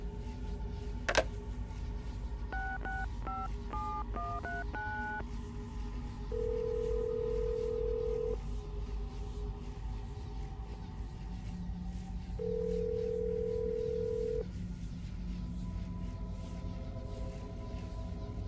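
A telephone is dialled in Assassin's Creed Brotherhood: a quick run of keypad tones, then two long, steady ringing tones separated by a pause, over a low background hum.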